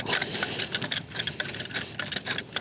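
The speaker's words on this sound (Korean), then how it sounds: "대충 중간을 맞추시고 설치를 해주시고 밑에 레버를 조여줍니다." A lever under a telescope's equatorial mount is tightened, giving a close, continuous grinding and ratcheting mechanical scrape with small repeated clicks over a few seconds.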